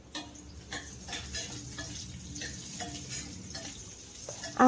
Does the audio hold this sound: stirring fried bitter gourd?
yes